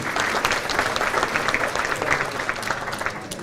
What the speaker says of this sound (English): we'll give them a nice round of applause anyway, right?